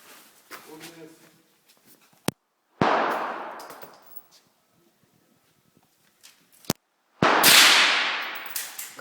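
Gunshots at a shooting range: brief talk, then two loud, sharp single shots several seconds apart, each with a long, ringing tail that echoes outdoors.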